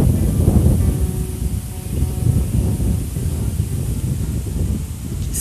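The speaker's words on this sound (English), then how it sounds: "just a little breezy in Rockford today" Light wind blowing outdoors in Rockford, a steady low rumbling breeze buffeting the microphone throughout, with gusts rising and falling and no talking.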